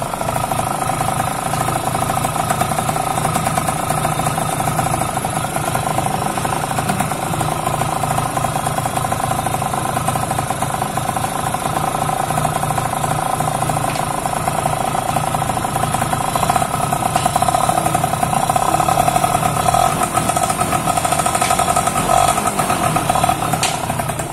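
Yamaha F1ZR two-stroke motorcycle engine, warm after servicing, running steadily close by during a test, a continuous buzzing idle with a slight rise in revs toward the end and no talking.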